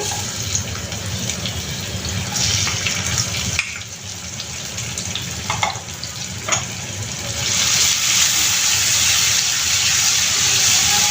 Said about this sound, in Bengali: তেলটা গরম হয়েছে এর মধ্যে এখন আমি পেঁয়াজ কুচি দিয়ে দিচ্ছি